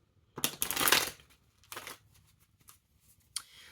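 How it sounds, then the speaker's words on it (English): A deck of playing cards being shuffled nearby: a long riffle burst, then a shorter second riffle and a few light card taps and snaps, with no talking. "So let me give this a good shuffle and then we will get going."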